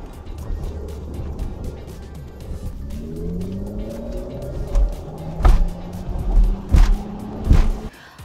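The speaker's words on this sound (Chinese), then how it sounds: "但是在 EQS 呢你可以揀回纯正或者活力两种声音效果给你揀的" A Mercedes-Benz EQS electric car plays its synthetic driving sound while moving, a steady close hum whose tones rise and sweep upward as it accelerates, broken by a few low thumps near the end, with no speech.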